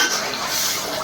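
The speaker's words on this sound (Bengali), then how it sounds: "নাড়াচাড়া করে দেব।" A spoon scrapes and stirs pangas fish curry with potatoes in a pan, a short, close, steady rustle of wet sizzling and soft clinks, with no voices.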